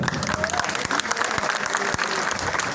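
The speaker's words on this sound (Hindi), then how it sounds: "तालियों में दम नहीं है भाई" A crowd at a workers' union rally claps loudly and steadily, with sharp individual claps standing out from a dense wash of applause, while voices carry faintly underneath.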